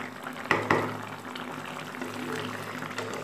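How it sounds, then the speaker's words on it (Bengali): Fish curry with ridge gourd, potato and bori simmering in a pot: a steady, soft bubbling with two sharper pops near the start, close and fairly quiet. "এবার আরও 2-3 মিনিটের মতো একটু ফুটিয়ে নেব"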